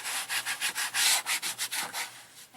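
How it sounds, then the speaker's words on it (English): Bare hands rub paint into a canvas in quick rhythmic back-and-forth strokes, a steady papery swishing about ten times over a couple of seconds, close and loud with no talking. "You just want to put some on your hands and rub it into your canvas."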